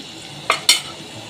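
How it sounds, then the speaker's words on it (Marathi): Red chilies sautéed in a pan, two quick scraping stir strokes with a spatula over a faint background sizzle, close and brief. "लाल मिरची टाकली तर परतून घेऊ"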